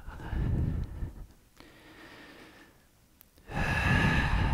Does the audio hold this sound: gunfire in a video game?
no